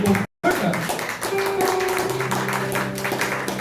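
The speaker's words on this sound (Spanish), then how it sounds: "Aplauda al Señor. Déselo con fuerza." Church congregation clapping hard for the Lord during an Easter resurrection service, a dense steady roar of applause from a large crowd with tonal music underneath.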